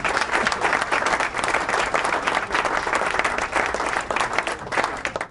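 A crowd bursts into dense, sustained applause, many hands clapping at once, loud and close throughout with no voices on top.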